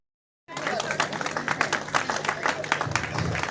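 After a brief silence, applause breaks out from a group at a school annual function in Muzaffarpur, India, many hands clapping at an uneven rhythm and continuing steadily to the end.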